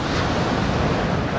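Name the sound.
ocean waves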